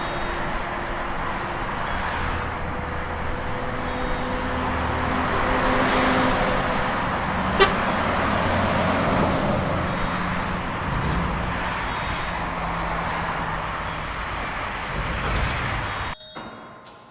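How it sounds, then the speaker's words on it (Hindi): A cartoon car pulls up: a smooth engine rumble swells gradually, holds, then cuts off abruptly, with no voices over it. "गुल्ली को शॉन की गाड़ी की आवाज़ आ जाती है"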